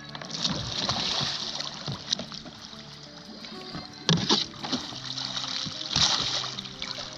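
A kayak is rolled back upright with a C2C paddle setup, water splashing and sloshing close by in a continuous churn, with sharper splash bursts around the middle and near the end.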